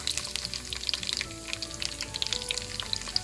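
Garlic and curry leaves sizzling in hot ghee in a wok, a close crackling fry full of rapid pops and spits with faint stirring beneath.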